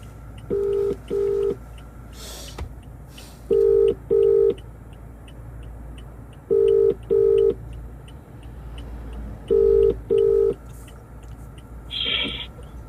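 A phone call's ringback tone repeats in regular double-beep pairs, four rounds in all, loud and steady over faint background noise, ending with a brief electronic chirp.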